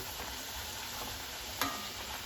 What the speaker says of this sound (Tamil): இப்போ எண்ணெயில் போட்டதும் இப்படி அமுக்கி விட்டோம்னா கொஞ்சம் திருப்பி விட்டுட்டு